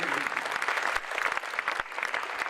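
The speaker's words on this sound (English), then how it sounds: "Oh, they deserve a little bit more of a round of applause than that." A conference audience breaks into dense, sustained applause, many hands clapping at once in a loud, continuous rattle with a brief dip partway through before picking up again.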